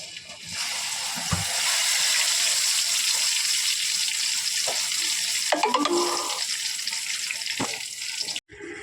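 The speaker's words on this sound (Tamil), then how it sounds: "எண்ணெய் காஞ்சிருச்சு இப்போ இந்த மீனை முழுசாக போட போகிறேன்" A whole large squid frying in hot oil gives a steady, loud sizzle after it drops in, with a few clatters and scrapes near the end and brief speech at the start.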